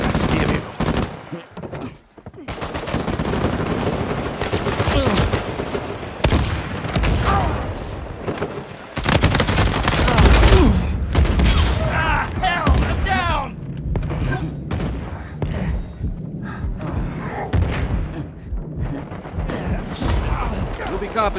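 Sustained gunfire in an Uncharted online multiplayer match: loud, dense bursts of automatic fire and heavy booms from explosions, with game character voices and chatter mixed in throughout.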